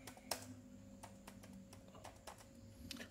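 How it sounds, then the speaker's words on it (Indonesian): Keystrokes on a computer keyboard as an ADB command is entered: scattered clicks and taps with a few sharper key strikes over a steady low hum, close and fairly quiet. "Kita ketik lagi ADB spasi devices, enter."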